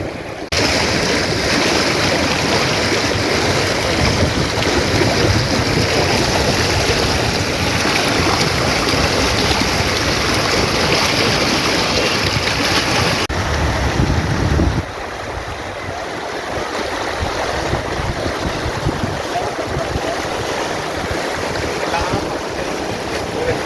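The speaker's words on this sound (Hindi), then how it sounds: "पानी का प्रेशर बहुत ज़्यादा है।" Floodwater rushes in Bihar, an area hit by floodwater flowing in from Nepal, making a loud, unbroken roar mixed with wind buffeting the microphone; the sound eases slightly partway through but keeps surging.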